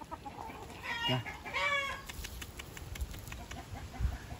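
An Indian game rooster clucks in a few short bursts, close by, with a man's brief call over it and steady outdoor background noise.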